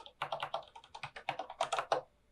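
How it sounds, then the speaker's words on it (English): Rapid clacking of keys on a computer keyboard while working in a Linux terminal, an uneven burst of close, crisp keystrokes with no voice. "So here I am typing away, right?"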